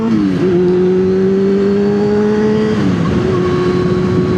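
A motorcycle engine revs hard and loud up close, its steady rising drone dipping briefly at a gear change before pulling on, with no talk over it.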